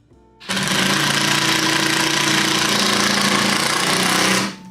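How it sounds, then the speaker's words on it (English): A power drill bores through a knot in a piece of wood during hand woodworking, a loud, harsh, steady grinding whine that starts abruptly, runs about four seconds under load, then cuts off. "that drill had to really say something about that knot"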